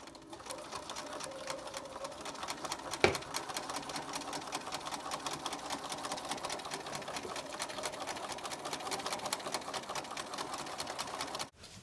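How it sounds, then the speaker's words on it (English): A sewing machine stitches quilt squares together at a fast, steady clatter for about twelve seconds. One sharp click sounds early, and the motor stops abruptly at the end. "You're going to sew the rows together by matching the seams at the top and pinning."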